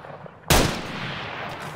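A single loud, close gunshot in a shooter video game, its sharp blast trailing into a long rumbling echo that stays loud to the end, with no talk.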